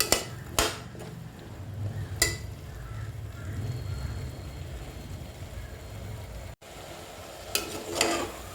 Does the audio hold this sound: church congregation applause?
no